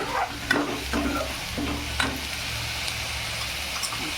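Soybean vegetable sautéing in hot oil in a pan, a steady close sizzle with a low hum beneath and a few spoon strokes knocking against the pan, no voices.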